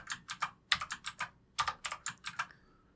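Code being typed on a computer keyboard, about a dozen crisp close key taps in quick uneven clusters with a short pause midway, and no voice.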